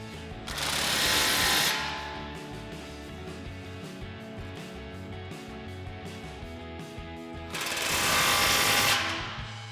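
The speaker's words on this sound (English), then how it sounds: "Now we'll go ahead and get our axle back clamps tightened." A power tool rattles in two loud bursts, tightening the axle-back clamps on a 2015-2017 Mustang GT's Corsa cat-back exhaust, with quieter mechanical clicking in between.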